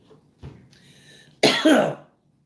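A harsh, raspy coughing fit, a couple of loud wet coughs close up, with a faint throat-clear just before and no talking.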